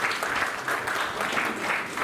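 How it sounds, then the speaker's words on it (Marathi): An audience at a journalists' association event claps together to welcome the organizers, a steady, dense round of applause from a sizeable crowd filling the whole moment. "आयोजकांचे एकदा जोरात टाळ्या वाजवून आपण स्वागत करूया"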